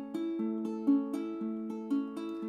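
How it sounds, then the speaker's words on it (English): Ukulele Travis picking at a steady beat: plucked notes alternating in an even, regular rhythm, close and clear, with no voices. "So if you Travis picked and just had a steady beat, it would sound like this."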